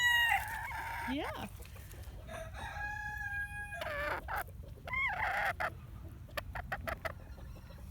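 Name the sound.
Buff Orpington chickens clucking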